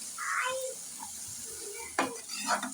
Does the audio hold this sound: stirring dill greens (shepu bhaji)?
yes